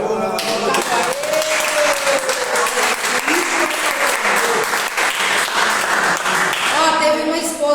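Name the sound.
audience applause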